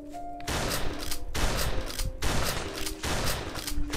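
Video-game gunfire from a shotgun and an assault rifle in a snowy Santa-themed shooter: dense, loud bursts of rapid shots in several long runs separated by brief pauses.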